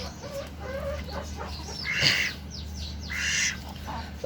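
Farm ducks and chickens wait for food in winter, giving scattered clucks and squawks with a louder call near the middle and a burst of higher calls toward the end, over a low steady background hum.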